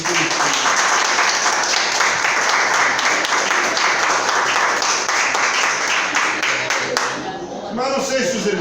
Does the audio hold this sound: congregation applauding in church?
yes